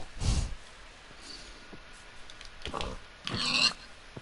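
Pigs grunting and snorting in Minecraft: a few short, faint oinks scattered across the moment, the last one louder and more nasal, with quiet gaps between.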